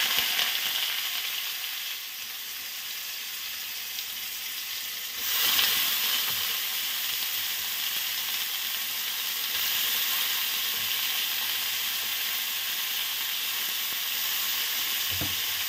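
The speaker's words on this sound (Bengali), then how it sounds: "লবণ মাখিয়ে রাখা কচুটা সেটা এখন আমি তেলের মধ্যে দিয়ে দেবো" Salted maan kochu (giant taro) pieces frying in oil with black cumin, giving a steady, fairly loud sizzle that swells briefly as more taro goes in, with faint stirring and no talk.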